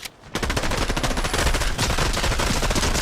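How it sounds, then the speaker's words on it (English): Shotgun fire in Fortnite, a loud, dense barrage of rapid gunshots that starts suddenly and continues without pause, with echoing blasts piling over one another. "We can use the shotgun to eliminate that player."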